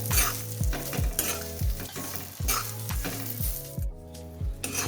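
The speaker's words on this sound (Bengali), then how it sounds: "ঘি গরম করে সিমাইগুলো ঢেলে ভাজতে থাকলাম। ড্রাই ফ্রুটসগুলো দিয়ে দিলাম, একসাথে লাল লাল করে ভাজা ভাজা করে নিচ্ছি।" Vermicelli and dry fruits fry in hot ghee in a wok, with a steady sizzle under repeated rhythmic scraping strokes of a stirring spoon, close and continuous, no voices.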